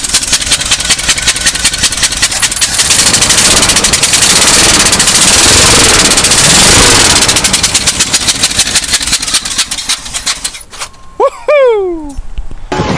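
An old Cadillac's engine roars loudly and close with a slightly uneven misfire in its beat, rising and falling in revs before cutting off near the end, followed by brief whooping voices.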